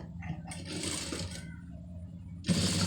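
Sewing machine stitching a folded quarter-inch thread piping edge on a blouse, a steady mechanical whir running throughout and growing louder near the end.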